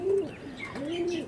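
Pigeons cooing close by, two soft throaty coos in quick succession with faint chirps around them.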